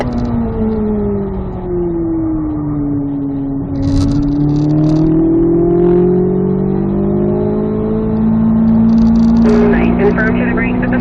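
A Corvette C8 Z06 accelerates on a race track, its engine note climbing and sweeping steadily up in pitch for several seconds, loud and close from inside the car, with a voice talking over it throughout.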